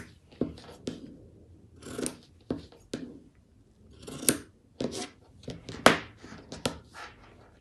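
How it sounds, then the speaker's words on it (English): Scissors snipping the fabric corners of a sewn backpack lining: close, crisp cuts in irregular single and double snips spread across the span, each blade closing with a sharp metallic crunch, without any talking. "So once that's done, you can just trim off your corners there."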